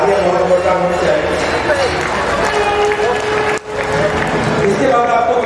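Applause from a large crowd at a public rally in Haryana during an inauguration announcement, a dense continuous wash of clapping with a brief dip near the end, with speech over it.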